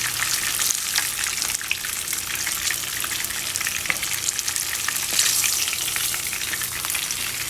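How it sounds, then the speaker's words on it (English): Fish pieces frying in hot oil for a Guyanese fish curry, a loud continuous sizzle with dense crackling pops and spatters, close up and steady, with no talking. "I'm now going to take these out and continue frying the rest of the fish"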